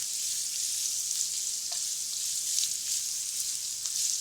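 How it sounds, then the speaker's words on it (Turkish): Carrots sautéing in butter and oil for a chicken and vegetable sauté, giving a steady, close sizzle that holds even throughout with faint stirring ticks. "Şimdi buna havuçlarımı ilave ederek sotelemeye başlıyorum."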